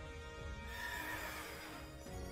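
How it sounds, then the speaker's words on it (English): A horse whinnies in Pokémon Sword and Shield: The Crown Tundra, one long, faint, quavering neigh heard alone over a soft background. "Horse!"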